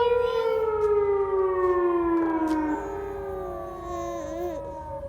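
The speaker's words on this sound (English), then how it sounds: "tornado siren?" A tornado siren wails in a long, steady howl that slowly falls in pitch, then drops back to a lower level and wavers, with a harmonic-rich tone that sounds moderately distant.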